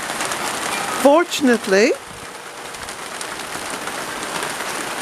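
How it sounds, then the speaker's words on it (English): Heavy rain falling outdoors in rural Ireland, a steady dense hiss throughout, briefly interrupted near the start by a short spoken word and a few bird-like chirps. "just to show you the amount of rain that's falling"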